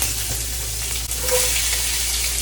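Sausage and cabbage fry in a pan, a loud, dense, continuous sizzle with stirring scrapes, close up and without talk.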